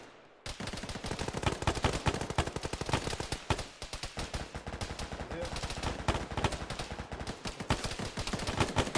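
Sustained heavy gunfire in the Arma military game, near continuous automatic bursts and overlapping shots from several weapons with a brief lull midway, loud and close throughout.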